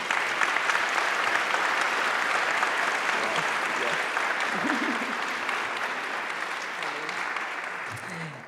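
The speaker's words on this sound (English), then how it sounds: "Please give a round of applause" An audience at a community talk applauds, a dense, continuous wash of clapping that stays loud and steady before slowly thinning out, with a few murmuring voices near the end.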